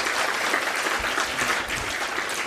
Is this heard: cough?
no